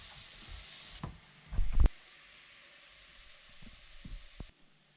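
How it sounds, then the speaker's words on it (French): Shallots and sliced leek sweat in hot oil for a risotto, giving a steady soft sizzle with a few louder stirring scrapes near the middle and scattered light clicks, and no talking. "faites suer vos échalotes et votre poireau émincé"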